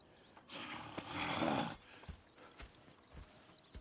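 In the video game Red Dead Redemption 2, a horse whinnies loudly for about a second, followed by a few scattered hoof clops and snorts, with no talking.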